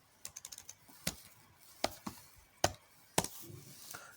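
Irregular light clicks of typing on a computer keyboard, quiet and close in a still room, with bursts of a few keystrokes separated by pauses.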